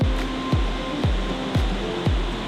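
Steady roar of a trailside waterfall on a loop hike in Oregon, a continuous broadband rush of falling water heard close, with faint periodic thumps about every half second layered over it.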